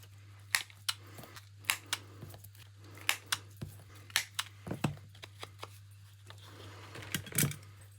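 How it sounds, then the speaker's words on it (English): A paper trimmer slices through cardstock, giving a series of short, sharp clicks and snips at uneven intervals, close and fairly quiet, over a steady low hum. "Now I'm going to use my trimmer to cut this out because I didn't make it completely straight."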